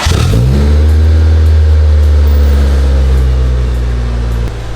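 A Honda Del Sol idles and revs loud and near through a new cheap aftermarket exhaust, giving a droning, raspy hum with a short rise at the start and a sudden drop near the end.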